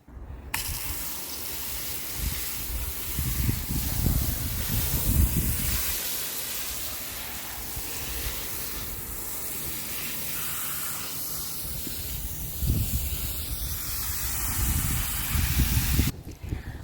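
Water pouring steadily from a hose or can onto newly planted green beans in a garden, a continuous hissing splash that swells and eases over several seconds, close and fairly loud.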